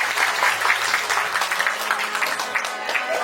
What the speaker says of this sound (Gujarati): આને તાળીઓથી વધારો આલો કલાકારને